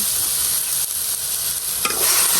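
Onion, garlic, green chili, ginger and raw shrimp frying in a pan give a loud, continuous sizzle, with a spatula scraping and stirring through it.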